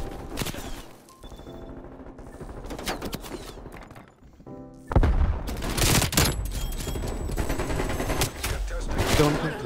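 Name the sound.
AK74u tracer gunfire, video game Call of Duty Cold War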